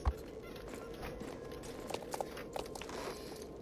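A horse's hooves in the game Star Stable tap out a soft, irregular clip-clop over a low background hum at a Halloween village hangout, faint and fairly close.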